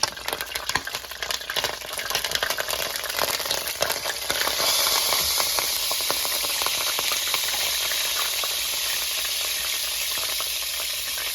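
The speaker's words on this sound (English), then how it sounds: "it's hard to see because that oil popping" Chicken and pork chops sizzle and crackle in hot grease, a continuous close hiss with frequent sharp pops that grows denser and louder partway through.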